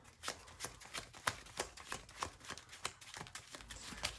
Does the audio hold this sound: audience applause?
no